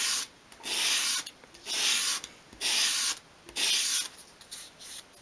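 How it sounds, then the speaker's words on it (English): Wood edge swept at an angle across a sheet of sandpaper on a small ornamental boat model, four steady abrasive strokes in a regular rhythm with brief pauses between, close and fairly quiet, no talking. "hold the piece at a 45 degree angle against a sheet of sandpaper and just sweep it towards you"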